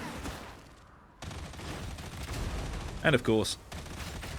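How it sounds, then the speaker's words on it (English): Autogun in Warhammer 40K: Darktide, used by a Psyker, rattling out steady rapid fire at moderate level beneath a voice, with a brief sharper burst of game sound near the end. "your little auto gun goes brr"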